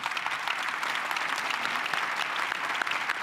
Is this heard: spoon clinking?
no